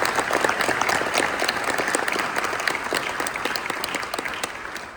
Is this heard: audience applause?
yes